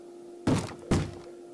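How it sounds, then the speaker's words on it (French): Two heavy thuds about half a second apart, like zombies in a video game banging against a barrier, each hit loud and close with a short boomy tail over a steady low hum. "c'est le bruit des zombies qui tapent contre ça"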